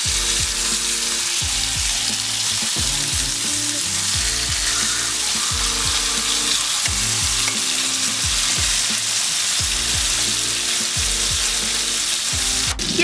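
Pork medallions sear in a hot pan with a steady, dense sizzle running throughout, close and loud, joined by regular low scraping or turning knocks; no one speaks.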